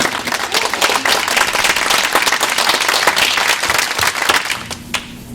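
Audience applause after presenters speak at a talk, loud and dense at close range, dying out shortly before the end and leaving a low hum.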